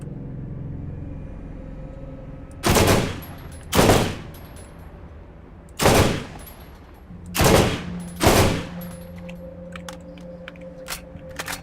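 A Stomper gun in Borderlands fires five separate heavy bursts, each a loud, sharp blast spaced a second or two apart over a low engine-like hum.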